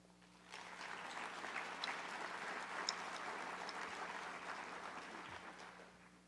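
Audience applauding honorees at the McMurry 100 awards ceremony, a sustained, even round of clapping from a large indoor crowd that swells in and holds steady throughout.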